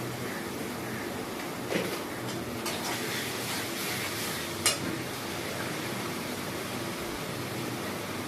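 Spices with turmeric and Kashmiri chili powder fry in hot oil with a steady, even sizzle that runs throughout, close by, broken by a couple of faint clicks and no talking.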